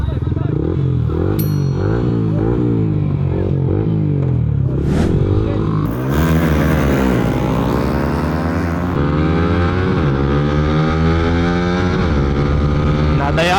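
Two underbone motorcycles, a Winner X and a Sniper with stock engines, drag racing: loud, close engine drone rising and falling through revs and gear changes, with a sweeping pass near the middle and voices talking over it.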